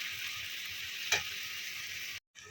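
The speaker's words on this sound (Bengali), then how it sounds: "সিমে করে পেঁয়াজ আর টমেটোটা একসাথে ভাজলে এটা একসাথে গলে যাবে" Onion and tomato frying together in oil in a pan, a steady close sizzle with one brief clink of a utensil midway before the sound cuts out.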